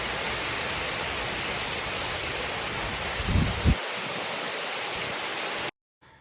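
Heavy rain with big, fat drops pours down steadily, a loud dense hiss broken by a couple of brief low thuds before it cuts off near the end.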